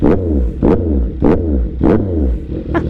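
A CFMOTO 675NK motorcycle with a full system exhaust revs loudly in four or five quick, deep throttle blips, each rising and falling, close by with no voices.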